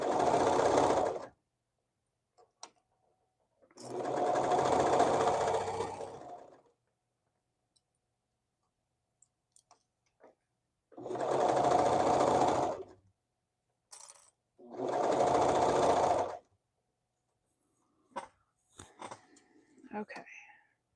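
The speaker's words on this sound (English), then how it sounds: "serging off the edge that has my gathers as I'm going around" A serger overlocks the gathered edge of fabric in four separate loud, steady whirring runs of a few seconds each, with quiet gaps, small clicks and handling noises between them.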